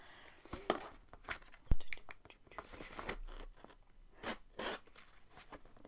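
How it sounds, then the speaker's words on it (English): Scissors snip and crunch through the packaging of a subscription book box in a series of quiet, irregular cuts with crinkling and rustling between them. "Scissors are not my friend."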